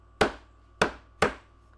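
Three sharp hammer blows strike wood, the second and third close together, each a crisp knock with a short decay in a quiet space, from traditional carpentry hand-tool work.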